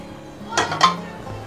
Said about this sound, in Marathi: मी आता इथे 2 झाऱ्यांच्या मदतीने छान असं मिक्स करून घेते हे सगळं